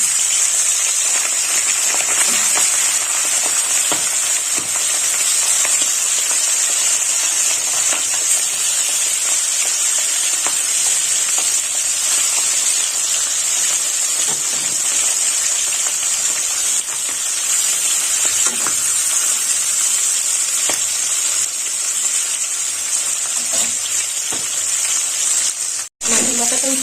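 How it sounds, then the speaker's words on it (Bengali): A fish head, rubbed with salt and turmeric, fries in hot oil in a pan, giving a steady, dense sizzle and hiss that runs unbroken throughout with faint crackles, then cuts out briefly near the end. "এবার আমি মাছটা ভেজে নেব"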